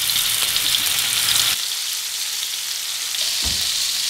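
Tire-style köfte meatballs frying in a pan give a steady, close hissing sizzle that softens slightly after a moment, with a faint clunk near the end.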